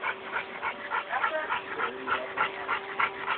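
Puppy whimpering and yipping in soft, repeated short bursts, close by, with a steady high whine underneath and people talking faintly over it.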